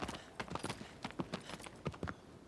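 Horse hooves clip-clop in the 2018 video game Shadow of the Colossus, a steady, quiet run of evenly spaced hoof beats with no voices over them.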